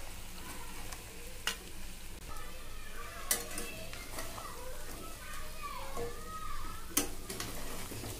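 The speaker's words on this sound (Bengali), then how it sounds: "ভালো করে নেড়ে দেব।" Spices are stirred into frying dahi mutton curry, a soft steady sizzle with scraping stirs and a few sharp taps of the spoon against the pot, fairly faint, with speech and background voices.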